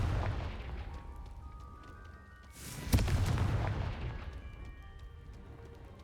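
The Confringo fire spell in the video game Hogwarts Legacy, a sudden explosive boom with a bright crackling burst that decays over a few seconds against a low rumbling background.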